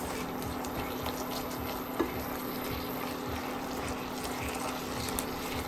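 Minced meat with onions and tomatoes being stirred and turned in a pan with simmering water, a steady soft sizzle and bubbling with a faint scrape of the spoon.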